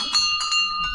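A temple bell rings at Patal Bhuvaneshwar, its bright metallic tone struck a few times in quick succession and sustaining loudly and close.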